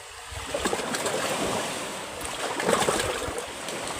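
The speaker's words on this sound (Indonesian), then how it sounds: "Ombak besar, ombak. Dari tadi ombaknya nggak berhenti-berhenti." Big ocean waves roll and wash continuously at a fishing spot, a broad rushing surf with swells of louder crashing, mixed with wind, no talk.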